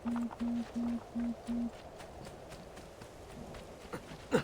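Horse hooves in the video game Assassin's Creed 2 sound as five evenly spaced, close thuds in a steady rhythm at the start, then fade into quieter background game ambience.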